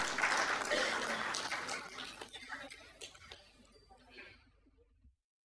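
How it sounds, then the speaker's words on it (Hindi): Audience applause welcoming a guest at a memento presentation during a U20 event in Indore, starting full and then thinning and fading out, with a hint of light laughter mixed in before silence. "एक बार जोरदार तालियों से स्वागत."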